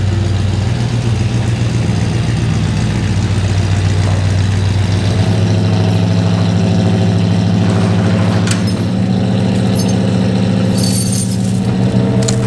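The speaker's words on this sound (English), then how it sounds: "Cold out this morning, so the truck's idling a little high." A truck engine idles high on a cold morning with the choke stuck on, a loud, steady low rumble running continuously up close, with some faint clinks and rattles over it.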